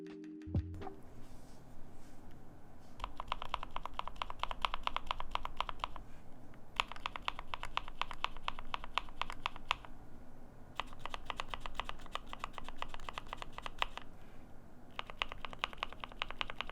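Fast, steady typing on a keyboard fitted with Novelkey Cream switches gives a dense run of crisp, close clacks in bursts separated by brief pauses.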